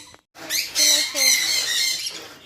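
A pet bird in an indoor bird room squawks loudly and repeatedly at close range, harsh raspy calls filling most of the moment after a brief silence.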